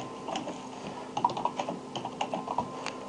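Keys clatter in quick irregular bursts of typing on a computer keyboard, close and fairly soft, with no talking.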